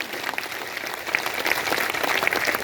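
Audience at a Sansad Satyagraha protest rally in Rajasthan breaks into applause, a dense steady patter of clapping with a few sharper claps standing out.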